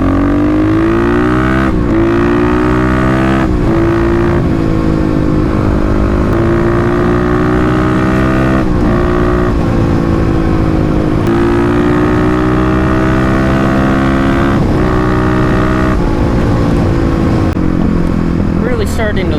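A Stage 3 Kawasaki KLX351 motorcycle engine drones loud and close while riding through a city, rising and falling with throttle changes and punctuated by sharp pops, with a rider talking over it.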